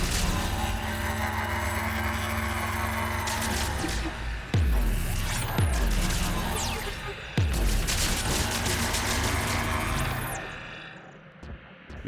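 Gunfire and heavy explosions from the sci-fi shooter Mass Effect 3, in a mission against the Geth, sounding as loud sustained bursts with several sharp booming impacts over a dense roar of game effects and music.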